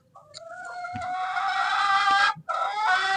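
A hen clucks and calls loudly up close, a long drawn-out squawking cackle with a brief break before it resumes.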